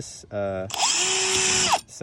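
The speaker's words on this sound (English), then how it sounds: "I'm going to drill right here." Power drill boring into a tile while installing tile hooks, a steady high whine lasting about a second and a half after a brief motor start, close by.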